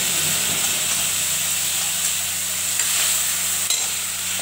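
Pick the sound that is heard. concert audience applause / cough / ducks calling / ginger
ginger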